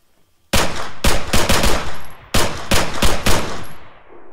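Loud bursts of automatic gunfire in the game Arma 3, two separate volleys of rapid shots ringing out sharply from silence, each trailing off in a short echo.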